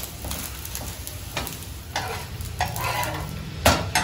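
Ash gourd dosa sizzles and crackles on a hot pan without oil, with a few stirring or scraping scrapes over a steady frying hiss, close and moderately loud.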